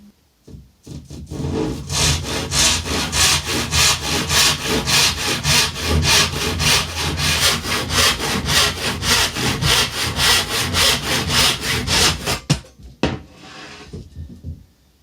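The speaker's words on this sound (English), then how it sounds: "I always use a handsaw when I'm doing anything like this. Nothing like it for a good straight quick cut." A handsaw cuts through a wooden skirting board on a narrowboat fit-out, with fast, even back-and-forth strokes, loud and close, running steadily for about eleven seconds before stopping with a final rasp.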